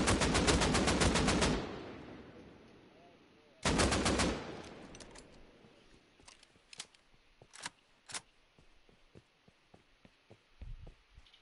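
Automatic AK rifle fire in a video game, heard as two loud rapid-fire bursts, the second shorter, followed by scattered sharp clicks and quieter gameplay sounds.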